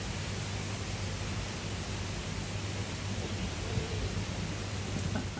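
Light rain shower after a passing typhoon, a steady soft hiss of drizzle and drips with a faint low hum beneath, even and unbroken throughout with no voices.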